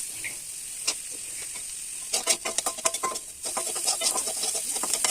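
Chunky-cut onion and chili frying in a wok with garlic, a steady hiss with bursts of sharp crackling sizzle and stirring scrapes, close and loud with no talking.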